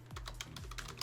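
Quick, crisp keystrokes tap on a computer keyboard at close range, about a dozen clicks within a second, each with a short thud. There is no talking.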